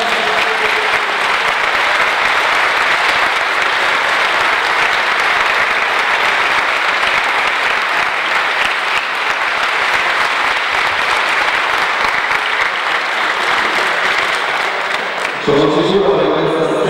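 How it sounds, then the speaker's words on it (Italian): A large gathering applauds Adolfo Viglione, head of the Istituto Archimede in Taranto, with steady, loud, sustained clapping for about fifteen seconds before it cuts to a quieter room. "Salutiamo con un applauso Adolfo Viglione."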